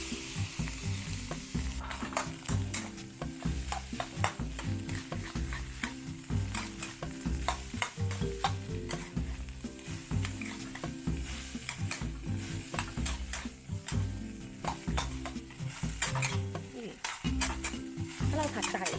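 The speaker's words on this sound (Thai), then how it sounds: "ถ้าเราผัดไข่จนสุกแห้งร่วนก่อนข้าวจะไม่ติดกระทะ" Egg being stir-fried in a pan for Thai egg fried rice, with a continuous sizzle of frying under a quick, steady rhythm of a spatula scraping and stirring, close and fairly loud throughout.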